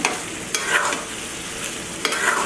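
Beef tripe frying in oil while being stirred in a pan: steady loud sizzling with rhythmic spoon scrapes and a couple of sharp taps, close up.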